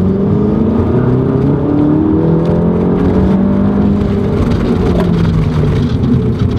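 A VW GTI MK7 fitted with a new clutch accelerates hard, its engine revving upward in rising sweeps through gears, loud and close from inside the car, with no talking.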